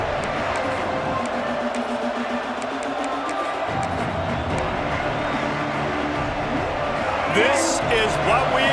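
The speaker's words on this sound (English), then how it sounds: "This crowd ready to make its presence known." Stadium crowd noise in the College Football 26 video game, a steady murmuring roar that swells toward the end beneath ongoing commentary.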